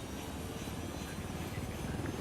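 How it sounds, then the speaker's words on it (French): A helicopter in the video game Ghost Recon Wildlands drones steadily, its rotor chop a constant, muffled roar with no pauses or voices. "Allez, on prend l'hélicoptère"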